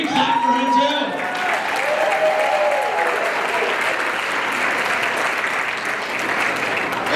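Audience applause at a community dance competition show, loud and sustained, with a voice speaking over the first few seconds before the clapping carries on alone.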